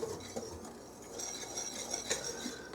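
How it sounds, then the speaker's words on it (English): Dry cake ingredients—flour with baking soda and salt—whisked together in a bowl for a homemade chocolate cake, giving soft, faint scraping and light clinking of a whisk against the bowl, steady and quiet. "And we're just going to kind of whisk this together."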